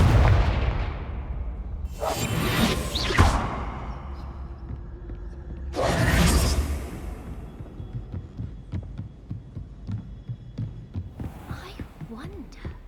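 Loud bursts of Confringo spell explosions in the Hogwarts Legacy video game, two broad blasts a few seconds apart with a third later, over game music and ambience.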